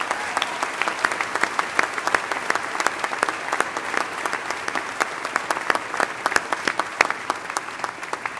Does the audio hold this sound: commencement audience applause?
yes